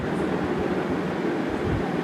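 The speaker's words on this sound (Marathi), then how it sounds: "लय भारी ट्रेन आहे ना हो. वंदे भारत आहे ना डायरेक्ट." Vande Bharat express train passing close by, a loud, steady broadband rumble and rush of wheels and carriages that fills the whole two seconds without letup.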